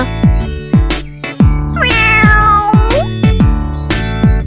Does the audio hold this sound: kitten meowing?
yes